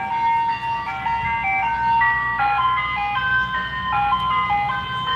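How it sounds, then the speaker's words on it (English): An ice cream truck's chiming tune plays loudly and continuously nearby, a simple repeating melody over a low engine hum. "Oh, where's that ice cream truck? I want to see it."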